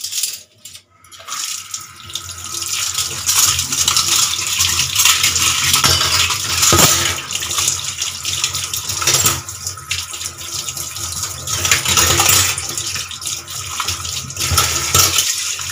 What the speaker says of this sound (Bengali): এবারে ভালো জলে বেশি নিয়ে আমি ধুয়ে নেবো